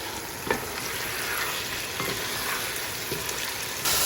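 A large chicken fries in curry gravy over medium-high heat, giving a constant dense sizzle, with a few soft stirring scrapes heard up close and no voices.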